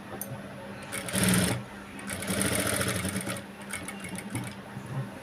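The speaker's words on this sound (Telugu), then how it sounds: "మనము పైపింగ్ అనే స్టిచ్చింగ్ చేసాం కదా ఇదే స్టిచ్ మీద అయితే వేసుకోవాలి" A sewing machine runs thread piping stitches along a boat neckline in short bursts, its needle chattering quickly and close, pausing and restarting several times with no talk.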